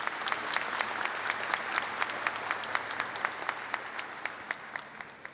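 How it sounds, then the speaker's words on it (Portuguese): A congregation at a Catholic Mass applauds a visiting group of 25, with steady clapping spread through the church and a few sharper individual claps standing out, moderately distant and sustained throughout. "Uma salva de palmas a vocês."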